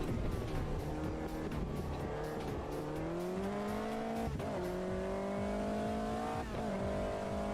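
A race car in the sim racing game Automobilista 2 drives hard with a loud, continuous engine drone that climbs through the revs, broken by quick gear shifts and some tire squeal, and no voices.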